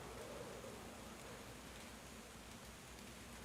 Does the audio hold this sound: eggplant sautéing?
no